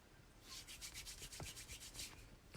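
Fingertip rubs back and forth over a swatch of jelly blush tint on skin, a soft steady rhythmic swishing, close and quiet with no voices.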